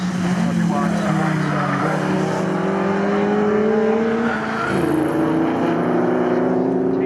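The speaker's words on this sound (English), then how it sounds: "As the leader crosses the line, completes 7 laps." A Morgan race car roars past on the Snetterton circuit during a Morgan Challenge race, its engine note loud and rising then shifting pitch as it goes by, with a commentator talking over it.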